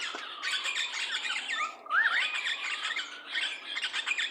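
A tropical bird squawks loudly and close by in harsh repeated calls, with shrill rising squeals woven through them and almost no pause.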